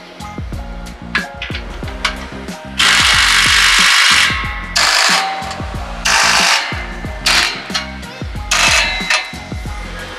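A power tool with a 16mm socket tightens exhaust clamps on a 2021-or-later Ford F-150 catback exhaust, giving several loud close bursts of whirring and ratcheting over a busy workshop background.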